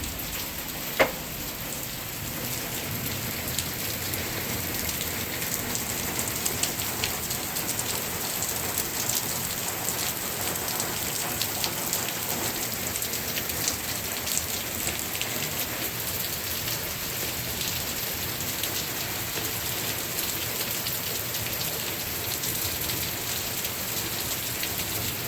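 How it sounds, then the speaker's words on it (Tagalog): Heavy rain pours down steadily outdoors, a dense, even hiss of drops pattering on surfaces that holds constant throughout with no voices. "Lumala yung ulan."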